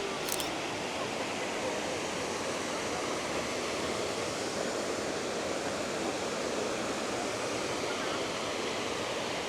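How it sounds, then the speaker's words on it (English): A large waterfall roars steadily at a scenic landscape photography spot, a constant dense rush of falling water filling the whole scene with no talking. "It is quite a pretty waterfall,"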